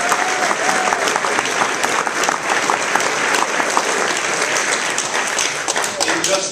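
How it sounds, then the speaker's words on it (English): An audience at a campaign speech in a hotel ballroom gives a senator a round of applause, a sustained, dense crowd clapping that stays even and loud throughout, with scattered voices and cheers inside it. "Let's have a round of applause for Senator."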